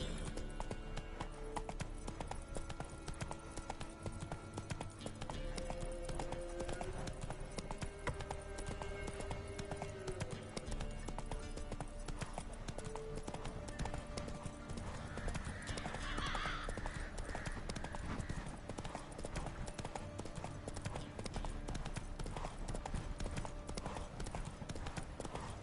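Steady, continuous hoofbeats as the horse Roach gallops in The Witcher 3, a rhythmic clip-clop over a dense game soundscape with a brief faint voice partway through.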